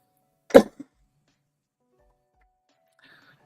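A single sharp cough, followed by a brief small throat sound, then near silence.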